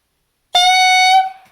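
A single clarinet note bursts in sharply as the tongue releases from the reed, holding a bright, steady tone for under a second before tapering off, alone with no talk.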